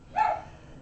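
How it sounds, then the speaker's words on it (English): A single short dog bark, fairly close, standing out briefly against a quiet room. "Please excuse the dog. She doesn't usually bark in a reading."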